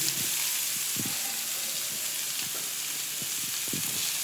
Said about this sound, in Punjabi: ਮੈਂ ਸਿੰਪਲ ਗੰਡੇ ਦਾ ਕੱਲਾ ਤੜਕਾ ਲਾਉਣਾ